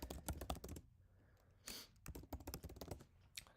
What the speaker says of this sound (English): Don't mind my typing while I pull up this resource.